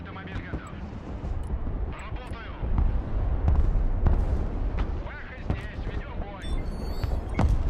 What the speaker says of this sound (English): As expected, taking a bunch of artillery